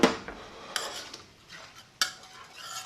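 A spoon stirs chopped parsley and garlic persillade into a paprika-tinted coconut garlic shrimp sauce in a pan, giving a few close scraping swishes and two crisp metallic taps against the pan.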